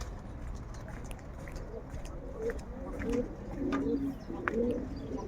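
Soft, low cooing of pigeons repeats several times over a murmur of background noise, close and fairly quiet.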